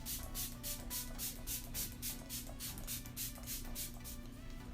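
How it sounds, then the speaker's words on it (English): A setting spray, Matte Fix Plus Prep and Prime, misted onto a face in a rapid series of about a dozen short, faint, even hissing bursts, heard alone with no talking. "So the first thing I also do is I spray my face with Matte Fix Plus Prep and Prime."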